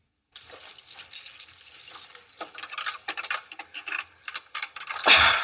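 Metal keys from a ring clink and scrape in the lock of a large iron gate, tried one after another with irregular ticking and rattling taps, ending in a louder metallic clunk.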